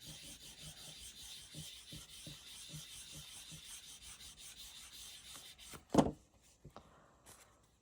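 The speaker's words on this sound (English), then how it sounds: "Then I usually burnish that down." Paper being burnished down by hand on a top hat papercraft, a faint, steady rhythmic rubbing close up, ending with a sharper tap or scrape near the end.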